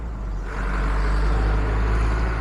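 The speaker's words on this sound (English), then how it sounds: "Sorry about the noise going on the road." Constant road traffic from vehicles passing nearby, a deep rumbling engine and tyre roar with a broad hiss that swells slightly as one vehicle draws closer. No voice is heard over it.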